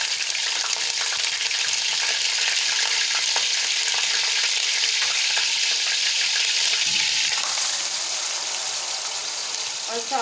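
Green chilies and ginger frying in hot oil in a pan for Pakistani beef paya, a loud continuous sizzle with crackling pops and occasional stirring scrapes, easing slightly toward the end.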